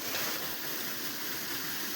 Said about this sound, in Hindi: वो पानी की धार आ रही है, इसके बगल में गिर रही है लेफ्ट साइड में जिससे ये घूम रहा है।